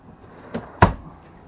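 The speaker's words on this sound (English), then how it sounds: "You've got some drawers" A drawer in a 2017 Rockwood 2906WS Ultralite camper trailer slides with two short knocks, a light one then a louder thump, close by with no talk.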